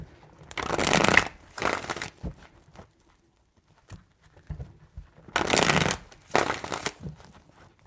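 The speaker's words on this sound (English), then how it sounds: "4 shuffles." Tarot cards are riffle-shuffled in four crisp, papery bursts, two quick shuffles, a pause with faint handling noises, then two more. Each burst sounds close and fairly loud against a quiet room.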